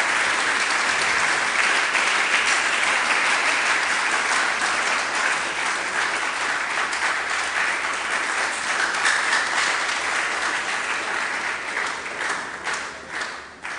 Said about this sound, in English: let's give our distinguished lecturer a formal round of applause to acknowledge.